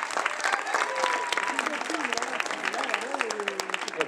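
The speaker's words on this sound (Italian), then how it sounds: "un applauso a tutti" Audience applause for the winners at a consumer-association masterclass event, a steady wash of many hands clapping throughout, with a person's voice speaking over it.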